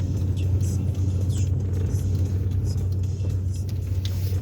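A loaded truck rolls through a road checkpoint with a steady, heavy low engine rumble and road drone, close and continuous with no clear gear changes.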